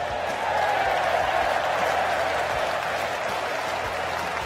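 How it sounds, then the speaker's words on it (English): A crowd at a T20 cricket match in the stands cheers and applauds steadily for the whole stretch, a broad, sustained roar at moderate distance with no clear voices on top. "Lively in the crowd."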